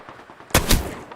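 Loud bursts of automatic gunfire from the Apex Legends video game, two sharp volleys in quick succession after a quiet lead-in, close and punchy.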